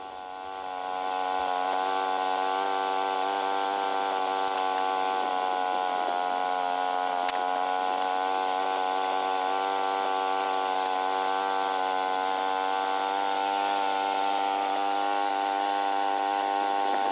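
Small sawmill cuts through wood with a loud, steady engine-driven whine that starts after a brief lead-in and holds a constant pitch close by, without talk.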